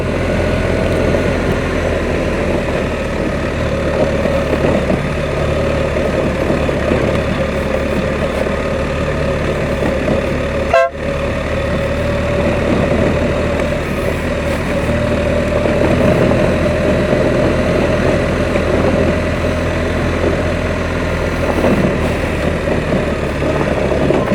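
BMW R1300 GS Adventure motorcycle engine pulling steadily in second gear while riding off-road along a rut, a continuous loud droning hum with one brief sharp knock partway through.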